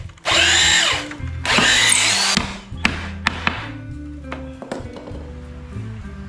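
Power drill boring into old salvaged wood with large nails, two long loud whirring bursts up close, followed by lighter taps and knocks of handling the boards.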